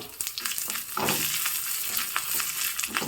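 Fenugreek, black pepper, ginger and garlic dry-roast in a pan, with a close crackling sizzle and the scrape of stirring running throughout.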